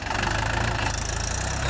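A Mahindra tractor engine runs steadily in a farm field, a close, loud, rhythmic diesel chug with a slight knock throughout and no voices.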